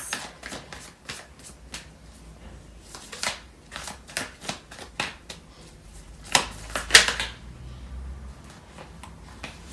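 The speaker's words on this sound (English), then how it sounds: "I'm going to pull out more cards." Tarot cards being shuffled and pulled from the deck, a quiet series of close crisp flicks and snaps with a louder riffle burst near the end.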